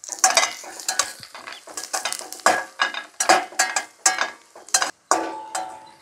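Onions frying in an oil-filled pan for chicken fry sizzle steadily while being stirred, with repeated scraping and clinking strokes of a spoon against the pan, close up and with no talking.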